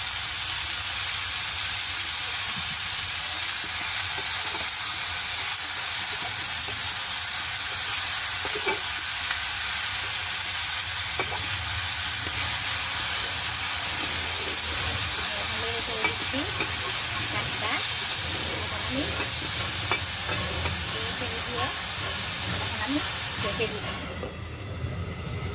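Water spinach greens sizzle steadily in a pan while being stirred, with a continuous frying hiss and occasional scraping over several seconds.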